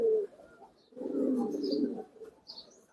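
A Naptha pigeon coos close by in low, soft murmurs, with a short coo first and then a longer rolling one. Faint chirps can be heard in the background.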